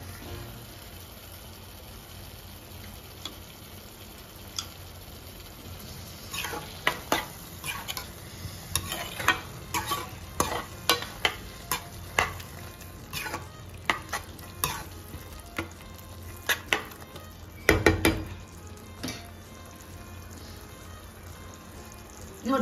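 Thick tomato gravy (thokku) cooking in a pan, a steady low bubbling sizzle with repeated scraping stirs and spoon clicks against the pan, close and without talk.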